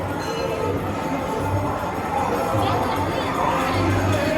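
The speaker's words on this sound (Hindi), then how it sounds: "अच्छी भीड़ भी है" A dense crowd murmurs at a village temple fair where dancing is underway, a continuous wash of chatter with children's shouts and bursts of music-like low thumps in the distance.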